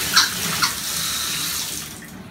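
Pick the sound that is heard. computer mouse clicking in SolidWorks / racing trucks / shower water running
shower water running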